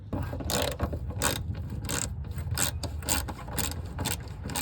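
A wrench working a shift linkage bolt under a car while removing the shift lever for a short shifter install, giving a series of close mechanical ratcheting clicks and metallic scrapes in bursts.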